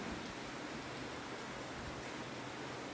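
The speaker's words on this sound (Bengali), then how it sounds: "বেশ জোরে পড়ছে বৃষ্টি" Steady, dense rain hissing continuously without a break, fairly loud and close, with no voices.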